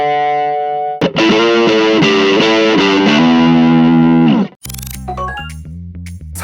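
An electric guitar driven through a distortion pedal rings out loud chords, first a sustained strum, then a run of chugging, rhythmic palm-muted hits, breaking into a brief riff after a short pause.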